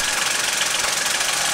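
A John Deere HPX 4x4 utility vehicle's diesel engine idles with no load but the battery, a steady close, even rumble with a faint knocking texture running the whole time.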